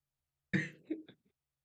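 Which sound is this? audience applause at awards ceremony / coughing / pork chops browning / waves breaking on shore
coughing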